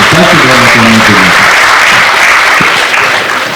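An audience applauding at the official launch of a student venture capital grant, a dense, steady burst of clapping that holds loud throughout, with a speaker's voice over it at the start.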